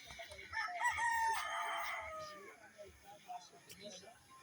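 A rooster crows once on a chicken farm, a clear, fairly close call rising and trailing off, with other chicken clucks and a person talking faintly around it.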